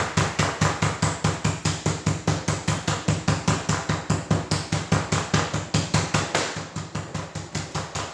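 Chicken breasts pounded thin with a meat mallet for chicken parmesan, a long run of sharp, evenly spaced whacks at a quick steady rhythm, loud and close, with no talking.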